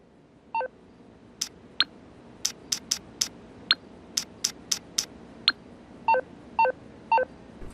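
Phone sound effects in the GTA Online video game play normally: a string of crisp, clean electronic beeps and tones tap out at an irregular rhythm, clear and alone over a quiet background.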